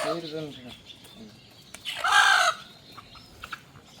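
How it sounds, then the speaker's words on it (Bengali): A desi chicken squawks and clucks loudly in a short burst as it is slaughtered, with brief calls before and scattered light bumps and movement around it. "প্রথম দেশি মুরগটা জবাই করা হচ্ছে"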